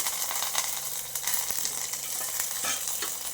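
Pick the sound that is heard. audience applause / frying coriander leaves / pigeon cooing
frying coriander leaves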